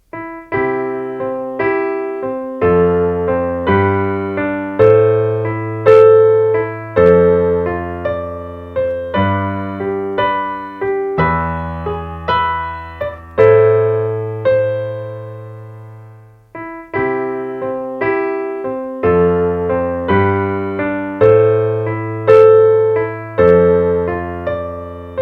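A piano plays the chords of a song at real tempo, with steady, evenly paced arpeggiated chords and a sustained bass line, clear and close, with no talking.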